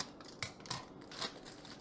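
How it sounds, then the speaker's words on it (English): Scissors snip open a brownie mix pouch in a few sharp, close cuts spaced across a brief moment, with nothing else audible. "And then you just open your pouch with your standard knife or scissors."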